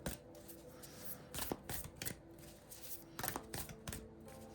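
A deck of round oracle cards being shuffled by hand, giving repeated bursts of riffling, slapping card noise in uneven rhythm, close and fairly loud, with no talking.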